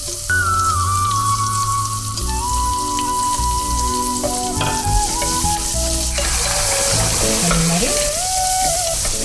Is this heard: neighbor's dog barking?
no